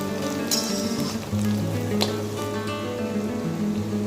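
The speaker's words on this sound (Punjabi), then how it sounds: "ਪਿਆਜ਼ਾਂ ਨੂੰ ਥੋੜਾ ਜਿਹਾ ਸੇਕ ਲਵਾ ਲਵਾਂਗੇ 2 ਤੋਂ 3 ਮਿੰਟ ਤੱਕ ਆਪਾਂ ਪਿਆਜ਼ਾਂ ਨੂੰ ਭੁੰਨ ਲਵਾਂਗੇ" Onions roast in a pan as the base for a home-cooked pumpkin dish, giving off a steady, close sizzle with occasional stirring clinks.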